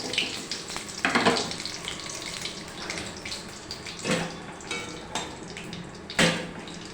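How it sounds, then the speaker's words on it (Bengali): Black cumin, bay leaf and dried chili sizzling in hot oil, a soft continuous crackle and hiss with a few louder spits, close and unaccompanied by talk. "তেল গরম হয়ে গেছে। এখন কালো জিরে, তারপর তেজপাতা, শুকনো লঙ্কা ফোড়ন দেব।"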